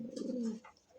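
A domestic pigeon in a loft gives a single low, throaty coo lasting about half a second, close and fairly quiet, followed by faint background noise.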